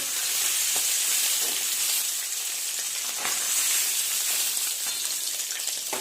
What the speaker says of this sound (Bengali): সমস্ত সবজিগুলো এক এক করে ভেজে নেব।